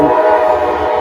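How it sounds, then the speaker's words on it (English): A train passes close by, a loud steady rumble with tonal horn-like whine sustained throughout, no voices. "Oh, hold on, I got a train going by."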